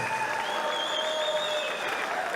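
A crowd at a live boxing fight night in Hull applauds both boxers after the bout, a moderate, distant wash of clapping under the arena hum.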